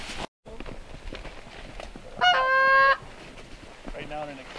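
Snow geese honk in a brief burst of strained calls from a flock drawing nearer in the field during a fall goose hunt, loud for under a second over faint rustling and movement.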